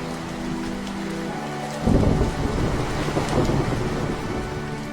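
Rain falling during a thunderstorm over a farm field, a soft steady patter that suddenly thickens into a heavier downpour with a low thunder rumble partway through, with no talking.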